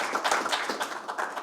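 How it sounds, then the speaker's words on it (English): Brief applause at a water district board of directors meeting, a small group clapping in a quick, soft patter that fades after about a second and a half. "So round of applause for Chris and his team."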